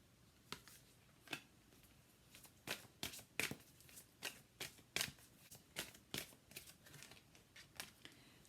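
Tarot cards being shuffled, a quiet run of crisp snapping riffles and flicks in an irregular rhythm, close up with no talking.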